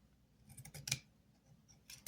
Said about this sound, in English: So I'm going to cut the lace